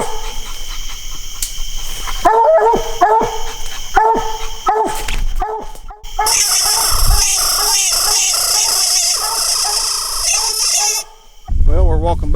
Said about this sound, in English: we just heard Night Moves tree.